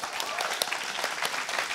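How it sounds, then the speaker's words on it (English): A room of people at a youth conference session claps briefly, dense and steady, with a voice or two underneath. "round of applause for this group again"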